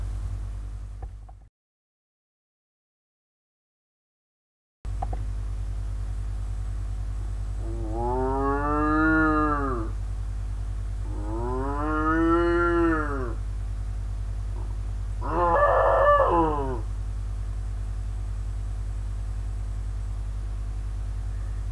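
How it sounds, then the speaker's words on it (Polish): A cow moos three times in long, drawn-out, loud calls spaced a few seconds apart, over a steady low hum after a brief silent gap at the start. "A teraz krówka!"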